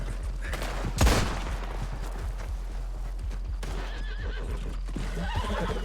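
A horse whinnies loudly once amid steady video game background noise, with scattered hoof clatter and distant gunfire-like pops.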